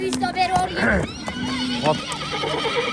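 A stallion neighs at an outdoor horse market in Nookat, whinnying loudly amid clip-clopping hooves and busy chatter from people nearby.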